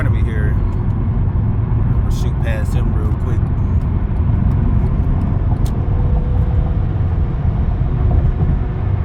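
An Acura car accelerating on a bumpy highway to overtake, with a steady loud engine and road roar filling the cabin and faint clicks above it, and no clear pause.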